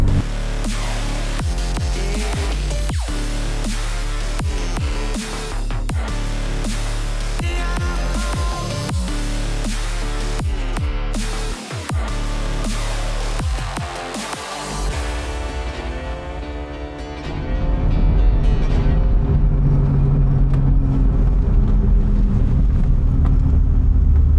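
A Datsun 280Z with an L28 engine and straight-pipe exhaust drives along, its loud, steady engine drone and rumble filling the cabin throughout, with a brief dip midway before the roar swells again.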